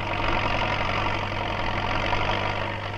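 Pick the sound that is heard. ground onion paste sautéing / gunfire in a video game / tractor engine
tractor engine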